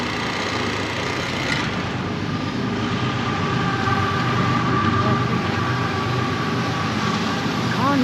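A Conrail freight train rolls past steadily and loudly, a continuous rumble and clatter of wagons with faint squeals, heard from near a truck with no clear speech.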